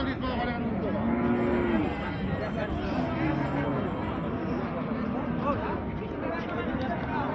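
Cattle, including Sahiwal cows with calves, low and moo repeatedly amid the busy hubbub of a rural livestock market at Raniganj, Dinajpur, with people talking throughout and the animal calls rising over the crowd noise.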